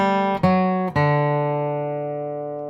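An acoustic bluegrass guitar picks a quick run of notes, a few crisp plucks early on, then a last note left ringing and slowly decaying, close and unaccompanied.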